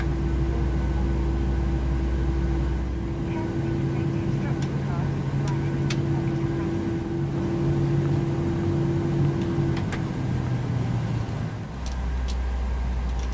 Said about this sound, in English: start engine one.